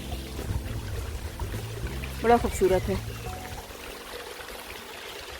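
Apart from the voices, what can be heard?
small river waterfall flowing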